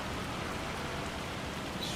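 Rain falling in Farming Simulator 25 on Wernolau Farm, a steady broadband hiss of rainfall that continues evenly throughout with no talking.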